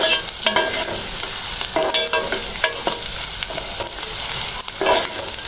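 Minced chicken keema sizzles and crackles in a hot pan, with repeated scraping stirs at an uneven rhythm, close and fairly loud, no voices.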